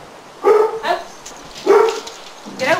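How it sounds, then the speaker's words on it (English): A dog barks aboard a sailing boat, giving a handful of close, loud woofs spaced unevenly, with a softer whimpering yip at the end. "I hear a dog"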